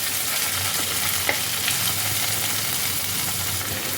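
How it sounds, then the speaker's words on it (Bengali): A paneer mixture with fresh coriander leaves is stirred in a pan over the gas flame, giving a steady frying hiss with soft scraping strokes of the spoon throughout, close and without talk. "আবারও মিনিট খানেক নাড়াচাড়া করে নেব"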